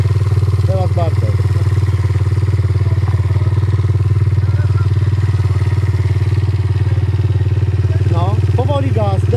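A powerful quad ATV engine runs steadily and loud throughout, with a low droning hum and light clatter, while voices speak over it at the start and near the end.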